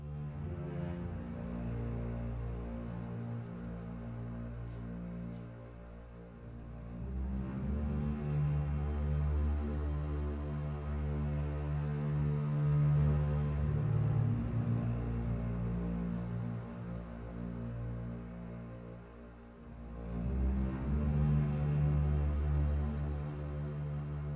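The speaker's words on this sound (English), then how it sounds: "I think this is a legato bass" Sustained legato bass strings shaped with EQ, boosted lows and dipped mids, OTT compression and Valhalla room reverb, playing long overlapping notes in a thick, continuous low swell that rises and falls, with no voices.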